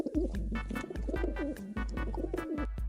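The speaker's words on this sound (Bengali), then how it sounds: "কবুতর সাউন্ড আমাকে জোস লাগে ভাই" Pigeon cooing repeats in a steady rhythm of deep, soft, rolling calls, close and clear with no other sounds.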